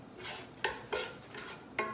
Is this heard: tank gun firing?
no